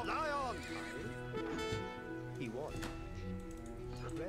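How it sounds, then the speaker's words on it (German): Cavalry horses in Age of Empires III neigh and whinny repeatedly, with faint hoof clatter, while players talk over the game sounds. "Meine Pferde reiten von hinten rum."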